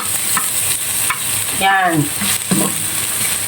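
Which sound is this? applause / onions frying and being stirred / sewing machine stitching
onions frying and being stirred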